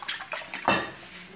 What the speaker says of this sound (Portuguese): E já vou bater nosso ovo.